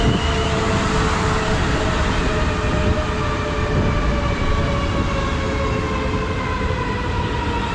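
A South Western Railway Class 450 electric multiple unit arrives at a Hampshire station platform, a loud continuous rumble with rising and falling tonal whine from the traction motors, no voices.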